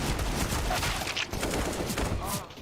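Pistol gunfire in a Counter-Strike esports match keeps up a dense, continuous clatter of rapid shots, loud and sustained, with a commentator's voice mixed in.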